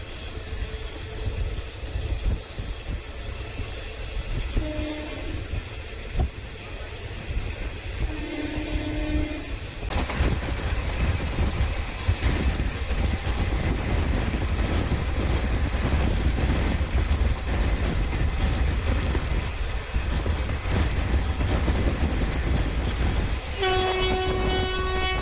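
A Kollam–Chennai Egmore express train rolls steadily along the chord line, its carriages rumbling loudly and continuously with a faint horn-like tone at the end.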